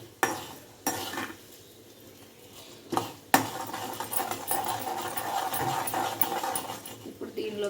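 Asafoetida dropped into hot oil as a tempering for coconut chutney gives a sudden, steady sizzle that follows a couple of sharp pan knocks, with a voice talking over it.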